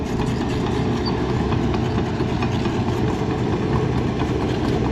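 A Dirt Simple 2150 digging machine runs steadily on a test run, its engine holding a continuous, loud, close rumble at idle with no breaks for the whole stretch.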